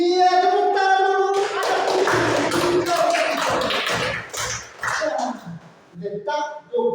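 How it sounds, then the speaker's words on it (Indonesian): Pupils in a classroom burst into a short round of hand clapping, with bright children's voices ringing out before the claps and talk continuing between them. "Iya, tepuk tangan dulu."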